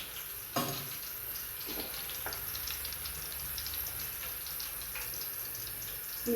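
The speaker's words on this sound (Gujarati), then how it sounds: "તો બસો એટલી તરાઈ ગઈ હજુ એટલી તરવાની બાકી છે" Sliced banana wafers fry in hot oil at home, a faint steady sizzle with a few brief clattering stirs and scrapes, quiet and continuous, with no one speaking.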